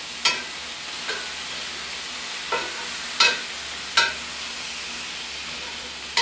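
Green peppers and onions sizzle steadily in a hot pan, a continuous close frying hiss broken by about six sharp stirring scrapes at regular intervals, with no talking.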